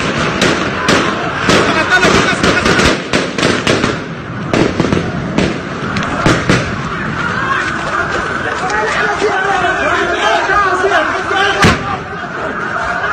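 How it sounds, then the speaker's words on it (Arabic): Sharp, rapid cracks of live gunfire aimed at protesters burst repeatedly through loud crowd noise and shouting, the shots scattered and overlapping across the whole stretch. "هذا صوت الرصاص"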